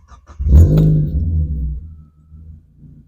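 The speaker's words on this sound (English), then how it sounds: "So when we start the car," A Mazda Miata NA/NB engine cranks briefly and catches, a loud close start that settles into a lower idle, with no talk over it.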